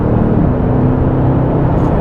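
A Mercedes-AMG GT S rear-wheel-drive sports car in Sport Plus mode accelerates on a cold, wet bypass, giving a loud, close, steady engine drone and whir from inside the cabin, with no talk.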